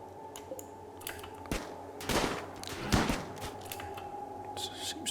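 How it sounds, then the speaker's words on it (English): Gunfire from the RimWorld video game in a mechanoid ship fight, a few sharp bursts and a dense clustered volley over a low background hum, with scattered faint clicks between shots. "Seems to be shooting down here now."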